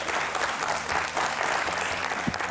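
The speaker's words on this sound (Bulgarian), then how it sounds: "Аплодисменти" Audience applause on a Bulgarian TV quiz show, a broad, continuous crowd clap that stays even and fairly soft throughout.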